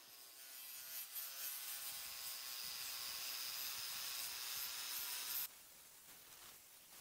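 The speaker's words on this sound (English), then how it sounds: "Sanding away all the loose debris so the epoxy will adhere properly." Wood is sanded to clear loose debris before epoxy is poured for a river table, giving a steady, close, hissy rubbing drone that runs for about five seconds and then drops to quieter handling noise.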